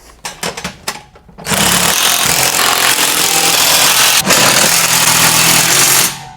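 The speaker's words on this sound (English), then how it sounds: "All right, break out the power tools." A loud power tool whirs steadily for several seconds while tightening bolts with a 9/16 socket on a Malone MegaSport Overland Angler tent trailer, preceded by a few sharp clanks and taps.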